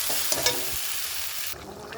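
Goat meat being stirred into hot, spiced onion masala, giving a close, steady sizzle with scraping stirs and a couple of clanks before the frying noise drops off abruptly.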